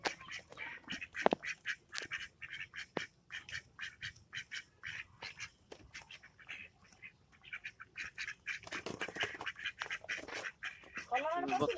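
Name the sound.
ducks quacking as they go into their shed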